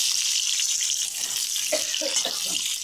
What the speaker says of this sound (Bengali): আলুগুলো আমি একটু লাল লাল করে ভেজে নেব